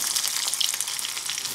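Onions and shallots frying in oil with dried red chillies and curry leaves for a vellari curry, giving a steady close crackling sizzle that runs unbroken throughout with no talk.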